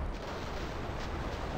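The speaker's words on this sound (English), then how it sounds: "Oh, there's like a huge artillery." Heavy artillery fire in Battlefield 2, a dense continuous rumble of distant blasts and booming impacts filling the whole short stretch.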